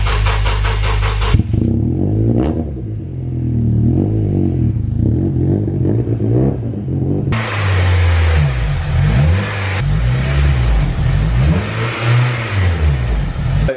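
A Honda Civic EP3 Type R engine idles, then revs and pulls away, rising and falling tones sweeping repeatedly, loud and close throughout with no talking.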